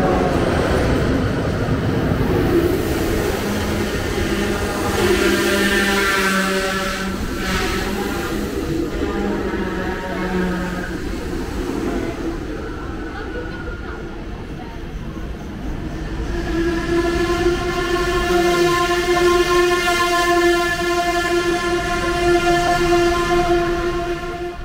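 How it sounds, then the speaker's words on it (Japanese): A yellow RegioJet train in the Czech Republic runs steadily with rumbling and rising electric motor whine, heard up close for a long stretch with no voices. "さあ次乗る電車はこの黄色い電車です。"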